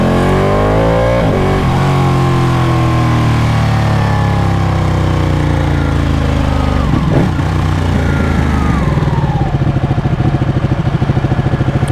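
Ducati Panigale 1199 sport motorcycle pulling hard under acceleration, loud engine tone climbing steadily through gears with a brief dip at a shift, then settling into a rough, throbbing drone near the rider.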